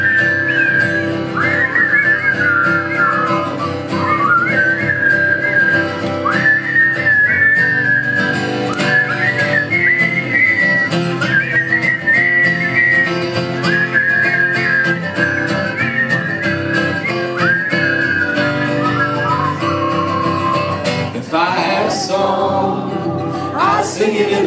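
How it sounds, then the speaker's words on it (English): A long melodic whistled solo, bright and clear, carried over a steady background of accompanying music, close and sustained. "Here is whistle solo."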